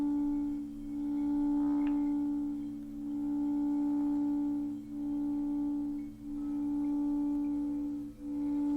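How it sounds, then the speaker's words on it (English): Steady layered sine tones hum continuously, with a low drone and higher pure tones that swell and dip in slow, regular waves. "This, my friend, is a sound bath."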